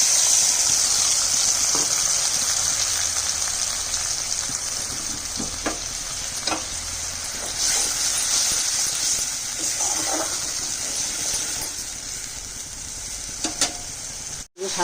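Spices and fenugreek seeds frying in a pan for katla fish, a steady close sizzle with occasional stirring scrapes, no talk.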